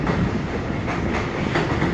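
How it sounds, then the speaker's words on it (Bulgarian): A 35-wagon freight train rolling past at a central station, a loud, continuous rumble with rhythmic clickety-clack of wheels over the rails, close and steady throughout. "35 вагона товарен влак."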